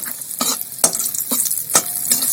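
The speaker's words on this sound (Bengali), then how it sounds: "আমি এই বড়িটা একটু ভেজে নিলাম" Lentil dumplings (bori) frying in a pan for a Bengali fish curry meal, a steady sizzle with periodic scraping stirs about every half second, close and loud, no talk.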